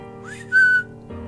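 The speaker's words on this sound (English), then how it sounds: "A whistle rang out from the living room," A whistle rings out in a creepypasta narration: a single clear rising tone that holds briefly then fades, close and alone, with a low background bed beneath.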